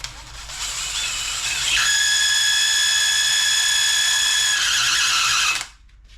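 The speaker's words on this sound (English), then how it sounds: "use that little deburr tool right there just to enlarge this hole a little bit" A small hand deburring tool working a hole in a part of an Ariens 911504 22-inch walk-behind mower, giving a steady high whine with faint ringing tones for several seconds before stopping abruptly.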